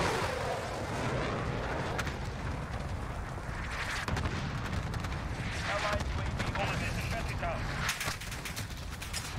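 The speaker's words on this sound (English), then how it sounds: "Enemy cluster strike. Take cover." Enemy cluster strike explosions in a first-person shooter video game, a dense, sustained barrage of booming blasts and gunfire rolling loudly throughout, with a voice talking over the din.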